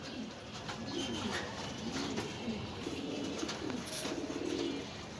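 Dragon and Danish breed pigeons for sale coo continuously, a series of low rolling calls close by over a steady background, with no one talking.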